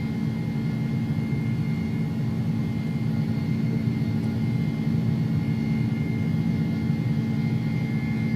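Airbus A300 jet engines drone steadily while climbing out in the X-Plane 11 simulator, a constant loud broadband roar with a low rumble and a faint whine throughout, no talking.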